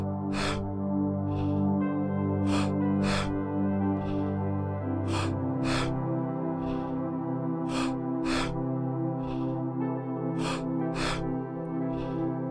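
Sharp, rhythmic breaths repeat at steady intervals during a guided breathwork class, each inhale-exhale cycle loud and close over a sustained droning music bed, with no talking.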